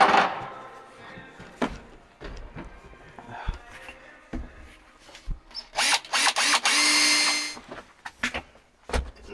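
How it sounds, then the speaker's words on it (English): A power drill whirs in a sustained burst, surrounded by scattered clicks, knocks and handling noises from nearby work on a truck's seats. "Where's my drill?"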